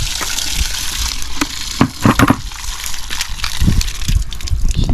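Water gushes and sloshes out of an open pipe outdoors on a walk around Mandeville, Jamaica, a loud continuous rush with a few brief splashes and knocks partway through.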